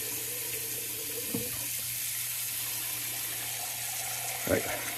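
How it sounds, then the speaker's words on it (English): Water runs steadily from a tap into a sink during a wet shave, a constant broadband rush with a couple of brief clunks and splashes near the end. "All right, get some more water in here."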